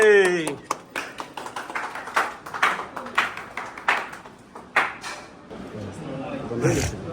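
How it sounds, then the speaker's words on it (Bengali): A small group claps in an irregular, sparse patter of sharp hand claps at an indoor welcome, with a voice heard briefly at the start and people talking faintly around the claps. "হাততালি"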